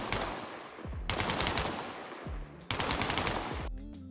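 M27 rifle fired from its bipod in the Arma Reforger video game, three loud close bursts of rapid automatic fire separated by short pauses, with no talk.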